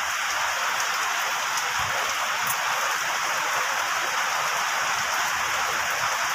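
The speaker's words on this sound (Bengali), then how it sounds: "কোথায় কোথায় বৃষ্টির জল পড়ছে দেখতে হবে, পুরো ঘরে তো জল পড়ছে" Steady, dense rainfall pattering on a tiled roof, an even wash of drops close by with a few slightly louder splashes, continuing unbroken and alone with no voices.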